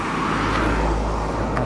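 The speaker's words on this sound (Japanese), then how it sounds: "こちらですね、車が参りますね。" Car approaching on a street, a steady close engine and tire rumble building slightly over a short stretch, heard alone without talk.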